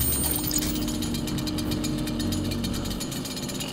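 Chainsaw weapon in the video game DOOM, a loud continuous buzzing, grinding engine roar with rough mechanical texture that runs steadily throughout, close up and dominant, with no talking.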